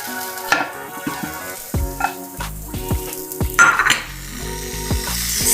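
Steady sizzling of food frying in a covered pan, punctuated by occasional clinks and scrapes of a utensil against the pan.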